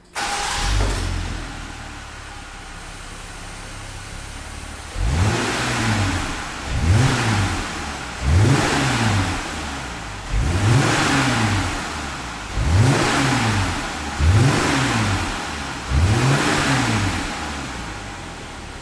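A Jeep Gladiator engine with stock exhaust revved repeatedly in a steady rhythm, about seven rising and falling vrooms after a short idle, fairly loud and close, no talking.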